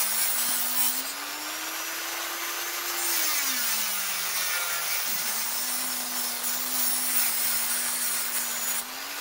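Stainless steel being cut with a saw during a landing net spreader block repair, a continuous grinding rasp with a steady whining tone that dips midway and resumes, close and alone.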